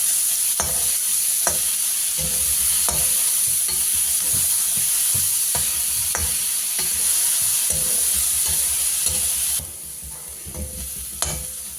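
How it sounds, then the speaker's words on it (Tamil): Onions for Chennai street-style kothu parotta sauté in a hot pan, a loud steady sizzle broken by regular spatula knocks and scrapes, close up with no talk. "நல்லா வதக்கிக்கலாம். வெங்காயம் நல்லா நம்ம சொல்றோம்"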